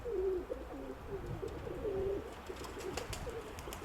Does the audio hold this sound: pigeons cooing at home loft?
yes